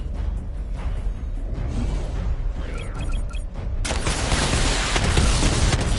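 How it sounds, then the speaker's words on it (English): The Batmobile fires a missile barrage in Batman: Arkham Knight, a whooshing launch followed by a dense, loud roar of impacts and rumble that swells and holds to the end, with no talk. "Charge up missile barrage to level 2 and destroy 4 active targets"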